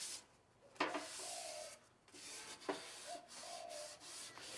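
Oil is rubbed into a gas BBQ plate in repeated scrubbing strokes, close and dry-sounding, with short pauses between the bursts of rubbing.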